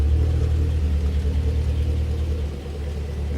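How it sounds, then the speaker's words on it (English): A 2015 Chevrolet Camaro 2SS RS with a six-speed runs at idle, its exhaust giving a steady, loud, deep rumble that eases slightly toward the end, with no talking. "The exhaust sounds fabulous."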